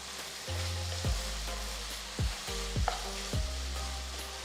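Chopped onions and tomatoes sauté in a hot pan, with a steady sizzle broken by several scraping stirs of a spoon, close and fairly quiet, no voices.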